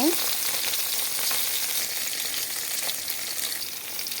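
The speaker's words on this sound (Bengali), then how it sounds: "টাকি মাছ ভালো করে কড়া করে না ভাজলে খেতে ভালো লাগে না তাই কড়া করেই ভাজছি" Taki fish frying until crisp in hot oil, a steady dense sizzle with crackling pops that holds evenly throughout, close and alone with no voices.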